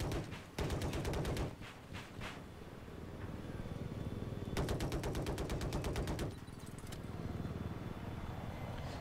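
Automatic gunfire in a Battlefield video game match on the Siege of Shanghai map: loud, rapid bursts of shots with several long sustained volleys and shorter ones between, over a constant battlefield din.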